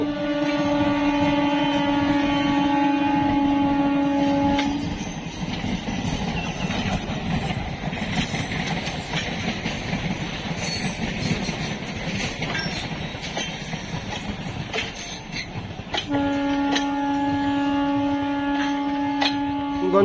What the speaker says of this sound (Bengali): কাটোয়া থেকে কাটোয়া মেমু আজিমগঞ্জ জংশন ঢুকছে দ্রুত